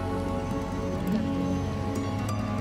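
Rain falls on the road to Panhala fort, heard as a soft continuous patter with a low engine hum underneath, steady and close throughout the short stretch.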